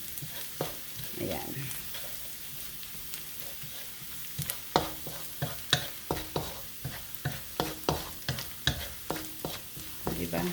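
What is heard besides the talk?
garlic frying and being stirred in a pan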